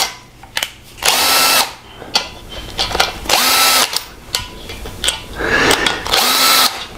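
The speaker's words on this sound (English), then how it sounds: "I'm going to use this drill here, and I've got it set on just 4 foot-pounds" A power drill set to a low torque of about 4 foot-pounds drives bolts into an engine short block, with several loud whirring bursts, each building briefly and then cutting off, repeated close up and with no talking.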